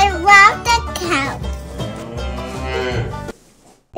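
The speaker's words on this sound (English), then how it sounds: "See the black cow." A black cow on a farm lowing in a long, loud, drawn-out moo close by, with a voice at the start before the call fades to quiet.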